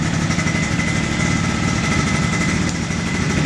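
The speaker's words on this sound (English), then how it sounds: "So we're gonna start it then. There you go. First kick." A Yamaha BWS 100 scooter engine runs at a steady, close, loud idle with a buzzing small-engine drone and no pauses.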